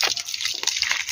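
Water from a garden hose splashes and drips steadily while plants are watered, a close, continuous wet patter with small uneven bursts.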